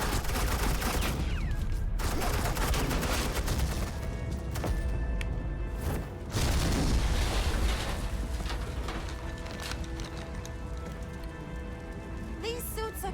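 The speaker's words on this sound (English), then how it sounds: "This is Agent Quinn, suppressing fire." Suppressing gunfire in the Batman: The Enemy Within video game, a dense, continuous barrage of rapid shots over a rumbling battle backdrop, loud and steady with a brief lull midway.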